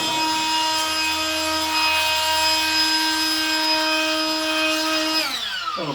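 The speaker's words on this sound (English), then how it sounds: "So I take a little blower here." A small air blower clearing dirt and debris from the slot of a window screen frame gives a steady, loud motor whine with a high hiss that runs throughout, then drops in pitch as it winds down at the end.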